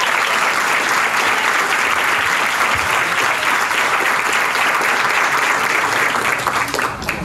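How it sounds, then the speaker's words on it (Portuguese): Audience applause at a stand-up comedy show, a dense, steady wash of clapping from a sizeable crowd that holds at full strength for about seven seconds and eases off only at the very end. "Salva de palmas pro Pedro, por favor, gente."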